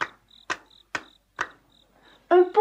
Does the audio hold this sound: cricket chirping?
yes